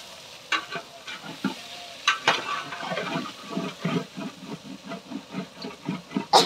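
Pumpkin and potato curry being stirred in a frying pan, a steady run of scraping strokes over a soft sizzle, with a few sharper clinks early on, close and moderately loud.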